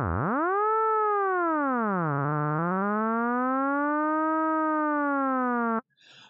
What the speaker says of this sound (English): if we change the rate here, that affects the frequency of our sine wave